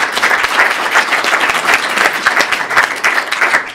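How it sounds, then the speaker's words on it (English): An audience claps steadily for panelists at a talk about cloud technology for video and images, a dense, even round of applause filling the room with no speech over it. "maybe we can give them a round of applause"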